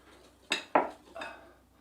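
A whisk stirring dry pancake ingredients in a bowl, heard as a few quick clinks and scrapes against the bowl, close and faint, with quiet gaps between them.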